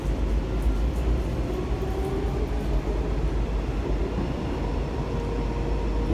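Washington Metro train built by Kawasaki, railcars 7168 and 7489, riding toward Navy Yard: a steady, loud rumble and roar of the moving car from the inside, with constant wheel and motor noise and no talk.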